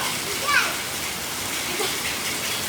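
A rain shower pouring down on an open terrace makes a steady, broad hiss throughout, with faint voices somewhere in the background.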